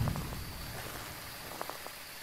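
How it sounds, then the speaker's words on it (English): Heavy rain in the Phasmophobia video game, a soft continuous hiss of downpour heard faintly and steadily throughout, with no talk. "Is it just gonna be heavy rain every time?"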